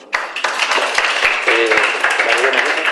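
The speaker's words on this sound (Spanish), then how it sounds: "les pido un aplauso para él." Audience applause for a speaker at a university talk, a burst of many hands clapping that starts sharply and keeps going at a steady, lively level, with a few murmured voices underneath.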